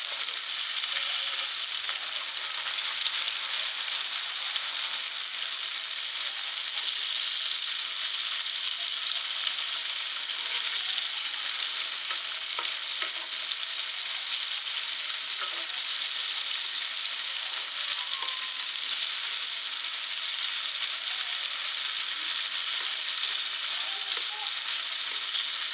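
Fish, baby shark for biryani, fries in hot oil in a pan, giving a loud, steady hiss and crackle that runs unbroken for the whole stretch with no talking.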